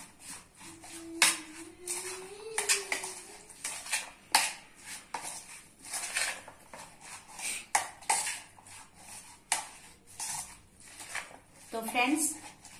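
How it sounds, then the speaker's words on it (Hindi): A spoon mixes mayonnaise into sandwich stuffing in a bowl, giving repeated soft scraping and light clinking strokes at an uneven rhythm, close and fairly quiet, with a voice speaking briefly in places. "2 बड़े चम्मच मेयोनीज, मेयोनीज को भी अच्छे से मिक्स कर लेंगे।"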